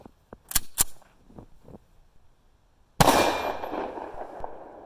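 A Rock Island Armory Tac Ultra 1911 combo pistol fires a single loud, sharp 22 TCM round at close range. Light metallic handling clicks come first, and the shot rings off afterward.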